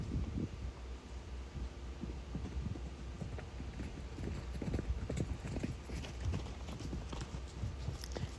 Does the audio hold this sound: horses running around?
yes